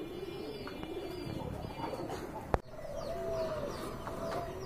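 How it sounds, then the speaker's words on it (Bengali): A pair of large pigeons, Gopalganj big pigeons, coo in soft rolling bursts over market chatter and chirps, with a sharp thump cutting through near the middle. "অনেক বড় সাইজের এক জোড়া কবুতর"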